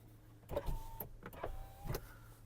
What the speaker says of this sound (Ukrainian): Склопідйомники також працюють.